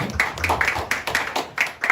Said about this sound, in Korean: 격려하는 박수를 우리 보내주십시오